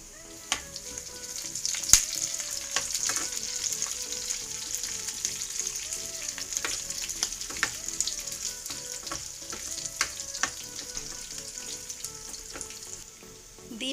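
Boiled potato pieces frying in hot oil with mustard seeds, dried red chilli and curry leaves, a steady close sizzle with occasional stirring clicks and spatters throughout.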